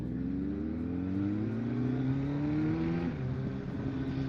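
Engine of a Kawasaki ZX-10R sportbike revving, a loud close whine that climbs steadily in pitch, briefly drops as if shifting gear, then holds high again.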